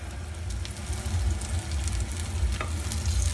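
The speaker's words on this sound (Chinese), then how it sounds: "咁等佢慢慢煎，煎到两边金黄香脆就得噶啦。" Potato cakes fry steadily in hot oil in a wok, giving a continuous close sizzle with faint crackles throughout and no talking.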